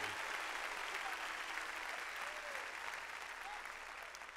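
A church congregation claps for the Lord during a worship service, a faint, steady wash of applause with a few voices calling out over it, heard from a distance.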